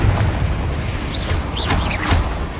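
Confringo spell blasts in the Hogwarts Legacy video game, deep booming explosions with rumbling low end and whooshing, rising magical tones layered over a dense game soundscape.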